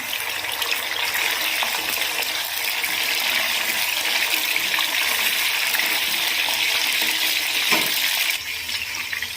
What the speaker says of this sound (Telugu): ఇప్పుడు ఆయిల్ మళ్ళీ కొంచెం వేడెక్కిన తర్వాత మిగిలిన ముక్కలను కూడా వేసుకొని ఫ్రై